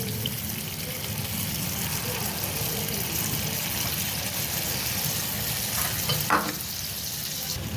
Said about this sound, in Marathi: आता तेल आपलं तापलं का त्याच्यामध्ये आपण घालायचे. असं आता सगळ्या ह्याच्यात मी टाकून घेते.